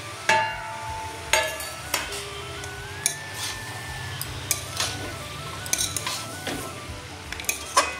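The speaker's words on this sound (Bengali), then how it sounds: "এবারে আমি মটরশুঁটিগুলো দিয়ে দিচ্ছি" Peas go into a pan for a katla fish-head and cabbage curry, with a scatter of clinks and knocks against the metal over a low background hiss and a few louder clatters.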